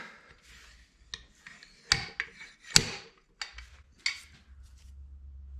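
Several sharp metallic clacks and knocks at irregular intervals, close by, with softer scraping between them, as a slide hammer strikes and pulls on a part at an LMTV military truck's wheel hub.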